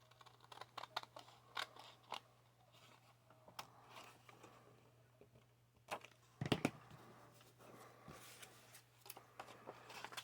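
Scissors snipping paper for a library pocket, faint scattered clicks and short cuts in a quiet room with a low steady hum, one louder rustle midway.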